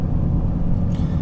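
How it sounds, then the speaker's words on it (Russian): Steady low road rumble fills the cabin of a Lexus LS 430 sedan while it drives, a continuous close drone with no talking. "Вот вы слушаете шум какой в машине."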